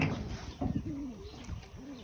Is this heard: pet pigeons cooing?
yes